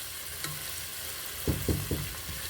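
Lasagna ingredients sautéing in a pan, a steady soft sizzle with a few short scraping stir strokes near the end.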